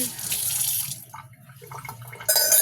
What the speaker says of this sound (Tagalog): Magdamag ang ulan talaga